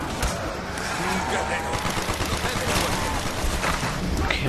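Machine gun fire in Call of Duty Zombies on the Verruckt map, a continuous rattling stream of shots with game noise behind it, loud and steady for several seconds.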